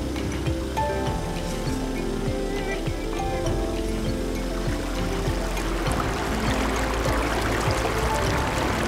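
Restored spring-fed stream at Eliza Spring by Barton Springs Pool in Austin, flowing steadily with a full, rushing babble and gurgle that continues without pause across the whole stretch.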